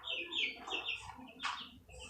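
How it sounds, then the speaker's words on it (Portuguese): Chickens cluck and chirp in a Minecraft farm: several short, moderately loud squawking calls in a busy, irregular sequence, with a louder burst partway through. "essas galinhas estão top, botando ovo direto"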